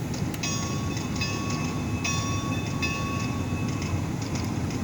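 Bell of a Bachmann Spectrum EM1 model electric locomotive with DCC sound, a steady repeated ringing tone under a constant motor hum, close and alone with no talk.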